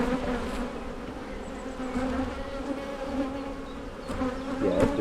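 Honeybees buzz steadily inside an open hive during an inspection, a dense, close humming drone that holds throughout with slight swells in loudness.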